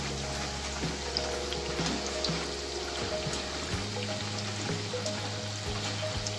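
Spinach patties fry in a pan over a medium flame, giving a soft, steady sizzle dotted with small irregular crackles and pops over a low background hum.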